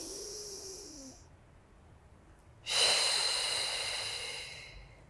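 Slow breaths during a beginner Pilates exercise: a soft inhale, a pause, then a long, loud, airy exhale that gradually fades, close to the microphone.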